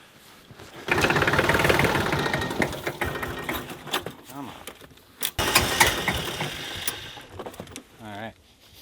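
A tractor engine cranks and struggles to start in cold weather after preheating, giving a loud, sustained, rough mechanical churning that stutters and fades near the end, with a brief spoken phrase.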